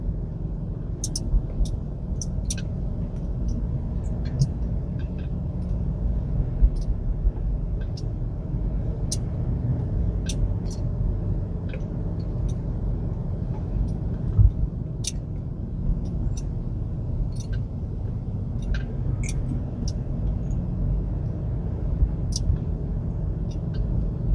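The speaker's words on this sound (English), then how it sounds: "So just driving down Honolulu Street" Steady low interior rumble of a rideshare car cruising a street in Honolulu, Oahu, continuous and even with small clicks and ticks scattered on top, no speech over it.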